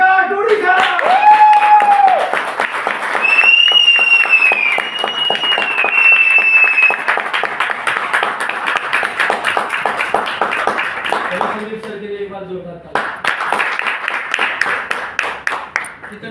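An audience in a hall claps to welcome a speaker, a sustained patter of many hands that keeps going for a long stretch, with a few voices and whistles mixed in.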